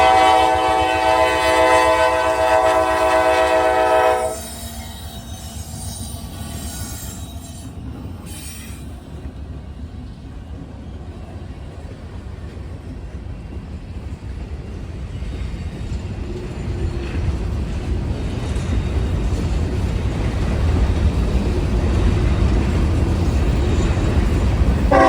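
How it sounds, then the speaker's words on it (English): Norfolk Southern freight trains, a coal drag with BNSF run-through locomotives and a manifest, pass nearby: a loud horn blast opens, then a continuous rumble of rolling cars and wheels builds steadily. "733 is an as-needed coal drag from Juliet, Georgia to Memphis, Tennessee, and often runs with BNSF run-through power."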